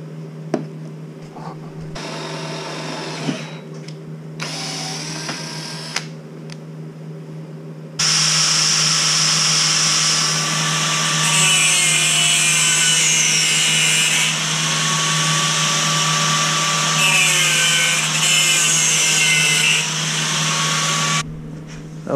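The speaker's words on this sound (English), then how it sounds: "Okay, we'll drill some holes here." A power drill bores holes in metal with tap oil while building a DIY dolly for a Kubota RC1248 rotary cutter, running in loud whining bursts that stop and start, then settling into a long sustained grind.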